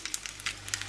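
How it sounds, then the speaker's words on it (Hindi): Mustard seeds and dried red chilli sizzle in hot oil for an Indian tempering, a steady close crackle and spatter with small popping bursts. "ऑयल गर्म हो गया, उसमें डाल देंगे मस्टर्ड सीड्स, ये ड्राइड रेड चिल्ली"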